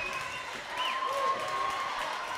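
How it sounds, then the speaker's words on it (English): A crowd at a high school volleyball match between Petaluma and Sonoma roars steadily in a gym, a dense continuous wash of cheering and shouting with whistle-like tones rising through it. "This crowd is making noise."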